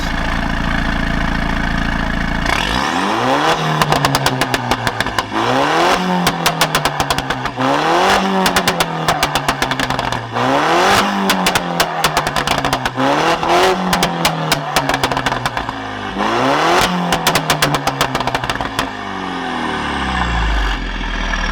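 A Stage 2 Mini's engine revs repeatedly in rising and falling bursts with a pumpkin touching the exhaust, a crackly, rattling exhaust buzz throughout, close and loud.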